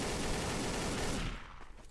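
Rapid automatic gunfire from a hard-recoiling gun in the video game Codename CURE, a dense roaring burst lasting over a second before cutting off into a short fading tail.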